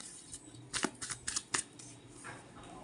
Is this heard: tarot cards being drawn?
yes